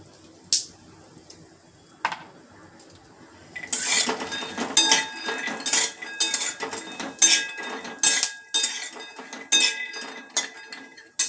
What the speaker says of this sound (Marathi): त्याच्यामध्ये काय करते मी थोडे बदाम आणि काजू एकत्रच भाजून घेते.